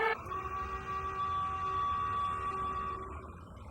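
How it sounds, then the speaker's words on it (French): A steady electronic spaceship alarm siren in an animated sci-fi series holds a sustained tone, loud and continuous, fading slightly toward the end with low rumble underneath. "La sirène! Une alerte!"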